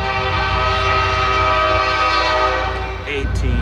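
A loud, sustained horn blares close by as the Piedmont 76 passenger train arrives in Durham, over the rumble of the passing train, with faint squeals as it continues.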